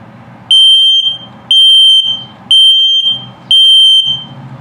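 Self-test of an LP gas and carbon monoxide detector in a 2021 Starcraft Autumn Ridge 26BHS RV: four loud, piercing electronic beeps in a steady rhythm, each about half a second, separated by quiet low hum.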